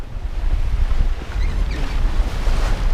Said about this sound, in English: So the wind came back, just as predicted.